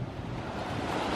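Big ocean waves breaking along the coast at Waikoloa, Hawaii, with a continuous roaring surf wash and some wind noise, heard close and fairly loud with no voices.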